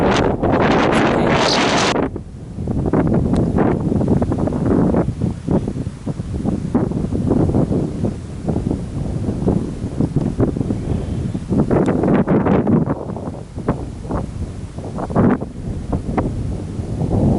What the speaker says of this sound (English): Now it's a bit windy, but in general it's okay.